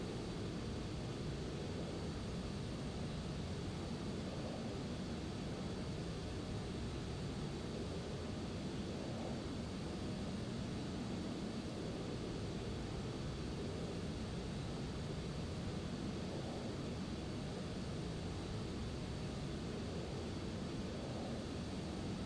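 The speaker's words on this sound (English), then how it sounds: "Runway 26 left, clear for takeoff." A steady, broadband jet engine roar from an airliner on the runway at Atlanta's airport, a continuous rumbling hiss at even loudness throughout with no audible voices.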